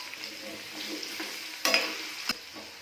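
Bottle gourd pieces and onions fry in oil with cumin and garlic, giving a steady soft sizzle broken by a couple of sharp utensil scrapes and clinks as the pan is stirred.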